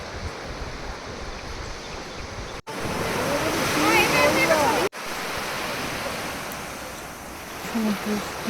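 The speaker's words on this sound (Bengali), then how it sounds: "সমুদ্রের আওয়াজটা আসছিল" Sea waves wash onto the shore at Mousuni Island, a broad, steady roar of surf with wind noise, continuous and fairly close, broken by two brief cuts.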